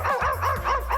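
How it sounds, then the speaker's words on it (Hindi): A video game character barks like a dog: a quick run of four or five close, yelping barks in steady rhythm, loud and alone. "मैं भौंक क्यों रही हूँ?"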